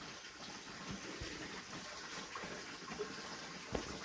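Water runs into a freshly built water tank, giving a steady, faint gush and trickle with small splashes and no voices.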